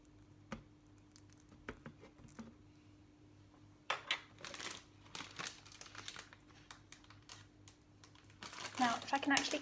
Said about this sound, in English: if I can actually get the bag open